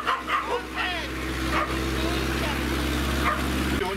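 Dogs bark and yip at a training session, several quick barks up front and more later, over a steady low engine-like hum with voices in the background.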